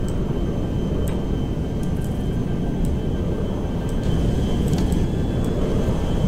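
A Boeing 747 jet taking off in GTA 5, a loud, steady low engine roar and rumble that holds evenly throughout, with faint ticking clicks on top.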